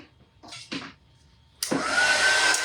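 A hair dryer switches on abruptly to dry paint on a scarecrow sign, giving a steady, loud whooshing blow close by, after a few soft handling sounds.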